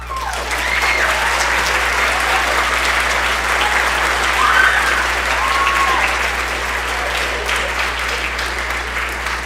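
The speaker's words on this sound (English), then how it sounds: "Let's give them one more round of applause." Sustained applause from a school concert audience at an orchestra awards ceremony, a dense, even wash of many hands clapping at once with a few faint voices, steady and full for the whole stretch.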